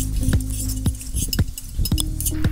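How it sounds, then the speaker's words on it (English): A quick stir of sambar in a cooking pot, with a spoon clinking against the metal about five times in a loose rhythm over a low background. "We'll give a quick stir"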